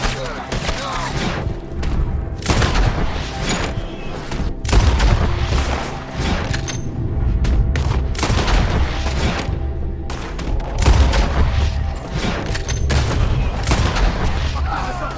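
Shootout gunfire in the video game Red Dead Redemption 2, repeated loud shots and booming bursts spread across the whole stretch, with shouting voices mixed in at times.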